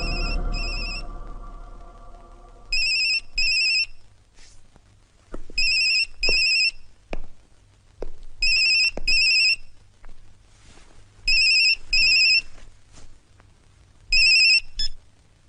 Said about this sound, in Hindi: मोबाइल पे फोन लगाओ